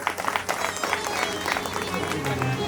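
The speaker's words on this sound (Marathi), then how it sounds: "टाळी वाजवायची." A crowd at a Shiv Mahapuran religious discourse claps together, a dense steady patter of hands lasting a few seconds at moderate loudness, with some voices mixed in.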